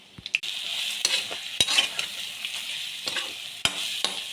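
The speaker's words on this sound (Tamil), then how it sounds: "இப்போ வந்து மிக்சியில் போட்டு துருவி வச்சுக்கிற தேங்காய் கொஞ்சமாக போட்டு வதக்கலாம்" Freshly grated coconut sautés in oil with lentils, dried red chillies and curry leaves, giving a steady gentle sizzle broken by sharp scrapes and clicks of a spoon against the pan.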